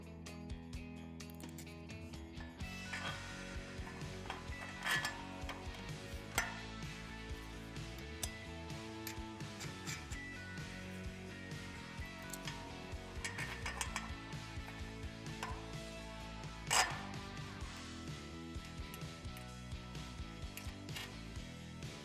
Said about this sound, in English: Tighten the hardware, but be careful not to over-tighten